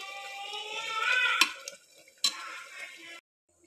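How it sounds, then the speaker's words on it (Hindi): Mutton for khichda is stir-fried in a pot, a soft frying sizzle broken by two sharp scrapes of a spoon against the metal before the sound cuts off. "ये मटन अच्छे से भुन रहा है।"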